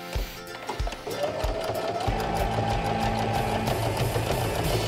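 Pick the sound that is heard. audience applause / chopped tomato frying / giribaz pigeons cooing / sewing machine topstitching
sewing machine topstitching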